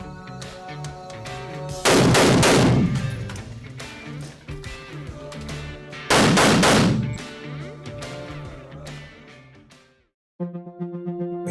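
Gunfire in a six-lane indoor police firing range, two loud sustained bursts of rapid shots that echo off the walls, followed by a brief silence and a tonal hum.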